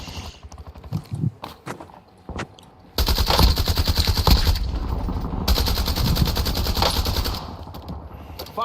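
Gunfire in the Warzone video game: a few isolated shots and clicks, then sustained, loud automatic weapon fire that stops briefly and resumes.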